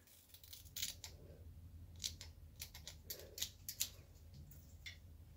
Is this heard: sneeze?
no